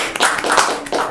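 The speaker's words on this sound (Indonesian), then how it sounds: "Tepuk tangan dulu, guys." A small group of people clap hands for a guest introduced as owner of Celtic Indonesia, a brief burst of overlapping claps that stays steady and fairly close for about a second.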